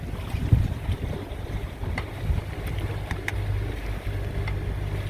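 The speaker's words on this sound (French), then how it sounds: "On est au moteur parce qu'il n'y a pas de vent." A sailboat motoring at night under engine on a calm, windless sea, a steady low engine drone mixed with wind buffeting on the microphone and soft water sounds.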